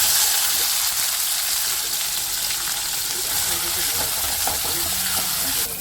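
A sambar tempering of fenugreek, chili, onion, tomato and green chili frying in oil, a loud, dense sizzle that carries on steadily throughout and fades slightly near the end.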